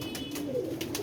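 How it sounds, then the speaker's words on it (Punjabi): A red-eyed jaaldar pigeon, caught in bad weather, gives a steady, low, rolling coo lasting about a second, close by and without talk, with faint clicks above it. "ਇਹ ਦੂਸਰਾ ਕਬੂਤਰ ਹੈ ਜੀ ਜਾਲਦਾਰ"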